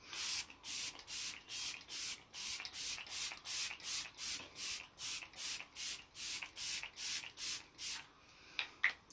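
Short bursts of setting spray misted onto a face, about eighteen quick pumps in a steady rhythm, close and fairly soft, then a couple of faint clicks at the end.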